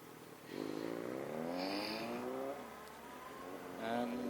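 A Volkswagen car accelerating past close by on a market-day road, rising engine tones sweeping upward and then fading, with muffled background noise.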